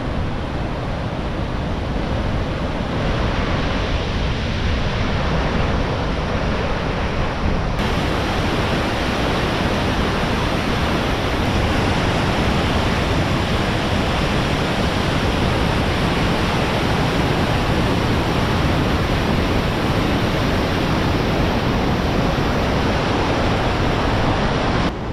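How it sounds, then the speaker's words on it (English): Nevada Falls in Yosemite, a waterfall roaring as a loud, steady, unbroken rush of white water heard up close throughout. "Waterfalls. I think this is Nevada Falls."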